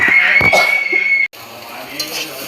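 Ridge gourd and potato with ginger, turmeric and chili sizzle in a pan as a utensil stirs and scrapes them; the steady frying hiss breaks off briefly, then continues more softly.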